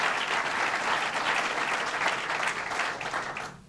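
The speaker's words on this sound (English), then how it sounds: "Let's give him a round of applause." Dense, sustained audience applause for a university dean at a Start-Up NY event with the governor, a steady roar of many hands that holds strongly before fading away at the end.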